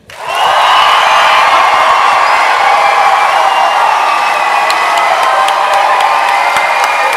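University debate audience roaring to vote for the ocean side, a loud sustained wall of cheering, whoops and shouting with clapping mixed in, rising sharply at the start and holding strong throughout.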